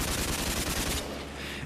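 An aircraft chin gun fires a rapid, loud burst of automatic shots in a rhythmic stutter for about a second, then cuts to a fading rumble, as a staged drama effect.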